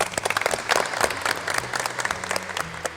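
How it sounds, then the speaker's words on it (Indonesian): Classroom applause from students in an automotive lesson, a burst of close, uneven hand claps with a lively rhythm lasting several seconds. "Tepuk tangan untuk kita semua."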